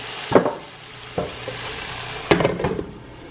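Food frying in a pan under a low background sizzle, broken by a few loud, close scrapes and clatters of stirring, spaced irregularly about a second apart, with no talking.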